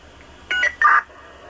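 Two short electronic fire dispatch alert tones sound in quick succession over a quiet background hum, the second slightly longer and louder.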